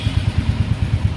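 A Royal Enfield motorcycle from the 2023 Classic and Hunter line idling up close, a loud, steady low thump with even, regular pulses and no talk over it.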